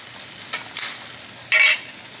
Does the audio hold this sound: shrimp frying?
yes